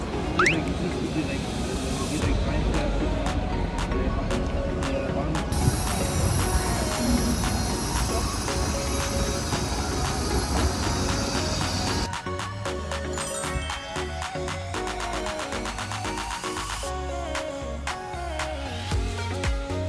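Steady rumbling of a Swiss train from Basel to Lucerne rolling along rails, with rhythmic clatter and a high whine through the middle, continuous and fairly loud throughout.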